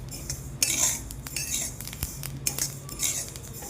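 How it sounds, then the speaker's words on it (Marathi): Green chilies roasting in a pan give off irregular crackles and pops, mixed with metallic scraping and clinks of a utensil stirring against the pan in short, busy bursts, fairly close and without talk. "असा तडतडणारा आवाज पण येतो बघा"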